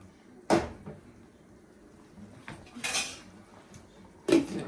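Pots and lids clank on a stove while an oxtail stew simmers, with a few sharp metallic knocks and scrapes of cookware and utensils spaced across a quiet kitchen.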